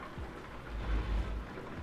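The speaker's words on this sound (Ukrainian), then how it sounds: "дощик іде, дуже атмосферно їхати" Rain falling during a drive in the Euro Truck Simulator 2 game, a steady low rumbling wash with a swelling hiss that peaks midway, heard alone without voices.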